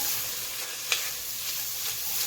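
Onions frying with parsley in a pan give off a steady, close, broadband sizzle with a single sharp pop near the middle, no talking.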